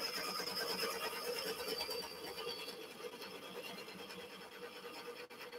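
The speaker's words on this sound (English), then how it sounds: "Nice and firm with the chisel." A chisel cutting a dovetail-shaped recess into a wooden bowl, giving a steady rasping, scraping scrape that runs continuously and close, gradually easing slightly in loudness.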